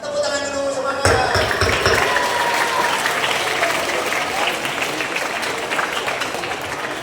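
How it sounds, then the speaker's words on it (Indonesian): Audience applause breaks out at a school Maulid Nabi celebration, a loud, dense wash of clapping that starts abruptly and carries on steadily after a voice speaking over a microphone. "Sehingga tepuk tangan dulu semangat."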